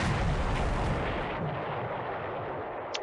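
Heavy naval guns fire in a World War II naval strategy game, a sustained loud rumbling barrage of booming shots at a light cruiser and invasion task force off Port Moresby, dense and continuous, with a brief sharper crack near the end.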